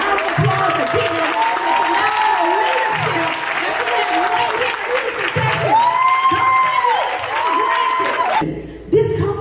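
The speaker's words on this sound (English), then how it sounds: "let's give that a round of applause for people" A large audience at a business presentation in Houston, Texas bursts into a loud, sustained round of applause with cheering and whoops, continuing steadily for several seconds before cutting off near the end.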